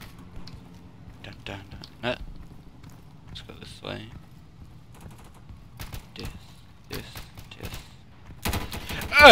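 Gunfire in the Insurgency video game: scattered sharp shots and short bursts over a low background, growing into a loud, dense volley at the end, with talk running through.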